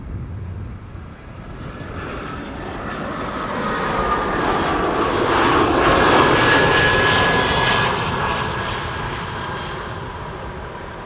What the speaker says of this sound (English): This is an EasyJet A319 arriving from Birmingham.